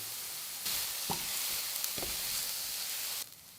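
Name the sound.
onions sizzling and being stirred in a pan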